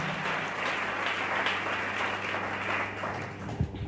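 A church congregation claps steadily in continuous applause, moderately loud with a dense, even texture, ending with a brief louder thump.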